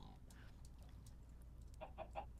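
A chicken clucks in Minecraft, three quick, fairly faint clucks near the end over a low game background hum.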